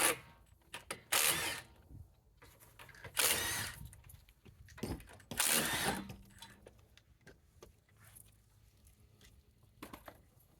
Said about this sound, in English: Take off the 5 lug nuts that are holding on the tire.